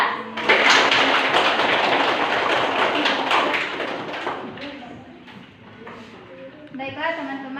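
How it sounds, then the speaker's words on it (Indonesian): Classroom audience applauding group 3 after their presentation, a burst of brisk clapping that is loud at first and gradually thins out, with voices audible toward the end. "Kita beri aplaus untuk kelompok 3"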